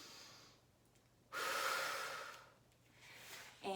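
Deep, slow breaths during a stretch at the end of an ab workout, with a long airy exhale in the middle and a quicker intake at the end, close and fairly quiet.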